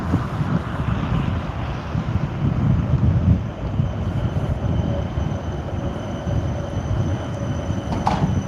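A train rolls past at the railway square in Helsinki, a steady heavy rumble with wind buffeting the microphone and a brief high squeal near the end.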